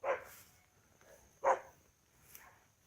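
Excited dogs barking outdoors near horse stables, a few sharp barks spaced apart and fairly faint, with a quieter yip between them.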